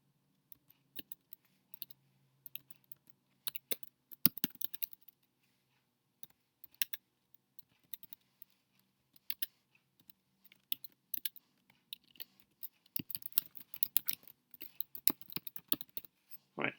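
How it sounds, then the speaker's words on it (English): Keys on a computer keyboard clack in irregular bursts of typing, close and fairly quiet, with short pauses between runs and no talking. "open a terminal and type this command."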